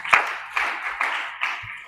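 A church congregation claps in praise of God during an Indonesian sermon, producing a few bursts of clapping at a steady beat, moderately loud with no speech over it.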